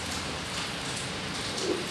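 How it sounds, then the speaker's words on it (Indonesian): Rain falls in a steady, dense patter that hisses evenly throughout. "Mungkin kalau ada suara gemericik itu namanya hujan."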